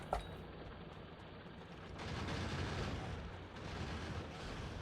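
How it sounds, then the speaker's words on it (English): Grenade blasts from a Factorio desert deathworld game, heard as a sharp burst at the start followed by sustained rumbling, crackling explosion noise that swells and lingers. "Grenade."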